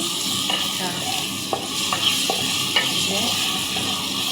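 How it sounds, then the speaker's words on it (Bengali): Onions frying in hot oil in a pot for homemade fried rice, a steady close sizzle with occasional stirring clinks and scrapes against the pot. "পেঁয়াজটা ভাইজা নিব সুন্দর মতো।"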